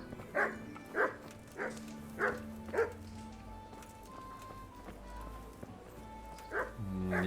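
A dog in Kingdom Come: Deliverance gives a series of five evenly spaced barks, then falls quiet before a final bark amid low ambient town sounds.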